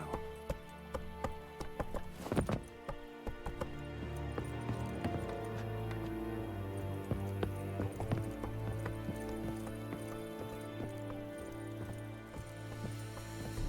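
Hooves of the horse Roach clatter in a steady galloping rhythm in The Witcher 3, close and continuous for most of the stretch, with faint ambient game sound underneath.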